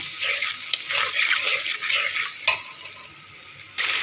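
Spice masala of turmeric, coriander powder and whole dry spices fries in oil while being stirred, a loud sizzling hiss broken by scraping strokes of a spoon against the pan.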